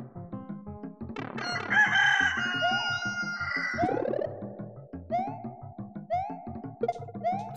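A rooster crows in the Super Mario World video game on the SNES, a loud electronic cock-a-doodle-doo over bouncy chiptune game music, with repeated game sound effects following.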